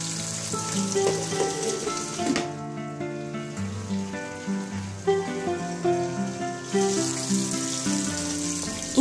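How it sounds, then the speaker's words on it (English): Asparagus spread in hot oil and frying in a pan, a bright hiss that fades mid-stretch and returns, heard beneath steady background music with no voices. "Spread the asparagus in oil and let them fry for 1 to 2 minutes."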